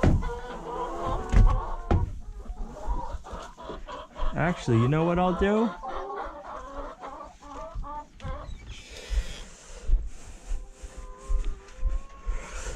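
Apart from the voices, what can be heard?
noisy chickens clucking in a new coop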